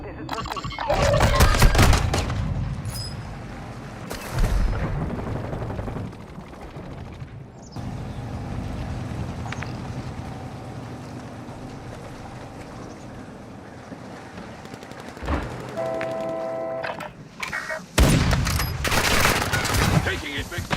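Bursts of automatic gunfire and sharp shot clusters in a military video game, loud near the start and again near the end, with a quieter stretch of engine-like rumble and ambient noise between.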